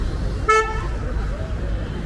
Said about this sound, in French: Vous entendez les klaxons.